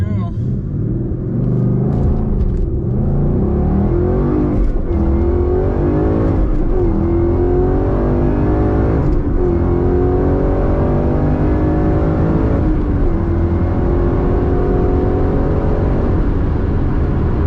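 A 2015 Ford Mustang GT launches on a drag run, its engine roaring loudly and climbing in pitch through several gear changes, with a voice talking over the steady drone.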